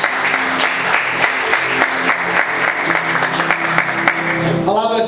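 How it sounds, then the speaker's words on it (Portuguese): A church congregation applauds at an evening service, a dense, even wash of clapping that holds for several seconds with a voice rising over it near the end. "Você pode aplaudir Jesus nessa noite?"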